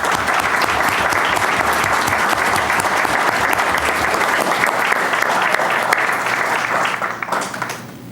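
An audience at a civic meeting claps loudly and steadily after a proclamation, a dense wash of applause that holds for several seconds before thinning out at the end.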